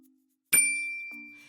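A notification bell sound effect: one bright metallic ding that rings out cleanly and decays slowly, with a soft tone before and after it and no speech.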